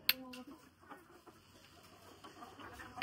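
Caged hens and roosters in a chicken house give soft, scattered clucks and short calls at a distance, faint and intermittent over low background noise.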